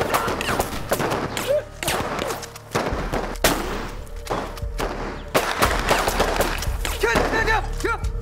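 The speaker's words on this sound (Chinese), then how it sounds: "停止射击！" Battle scene from a war drama set during the Japanese invasion of China, with guerrillas ambushing Japanese troops: dense rifle and machine-gun fire in loud, rapid bursts, with booming thuds and crashes, as shouting voices break through.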